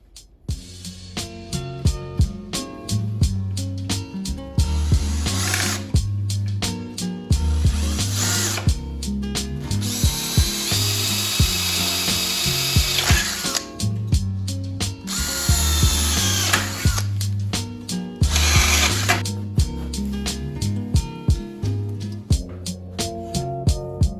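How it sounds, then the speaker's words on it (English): A loud power drill runs in repeated bursts, whining and revving up and down with ratcheting, clattering mechanical noise between spells of drilling. "so I will have to drill these holes"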